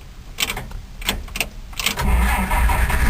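A 1953 Pontiac engine cranks over with several starter bursts before it catches around two seconds in, then settles into a steady, loud running rumble close by.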